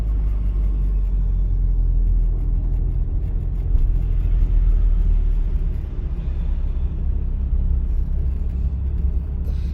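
Car driving through city streets during a practical driving exam, a steady low engine and road rumble continuing throughout at a constant level.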